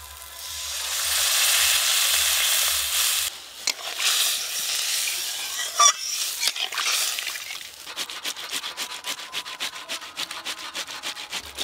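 Water poured onto fried spice masala in a hot pan sets off a loud rushing sizzle that swells, falters and then settles into rapid bubbling crackle.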